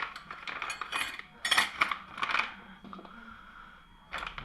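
Metal tools clinking and clattering as they are packed into a small tool pouch, several separate bright chinks and rattles close by with brief pauses between.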